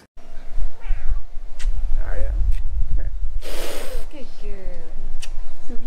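A cat meows a few times, short mid-pitched calls standing out over background rustling and movement, fairly close.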